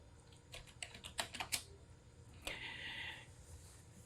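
Quiet keystrokes on a computer keyboard as a password is typed: a quick burst of clicks, a pause, then a few more taps, close and soft in a hushed room.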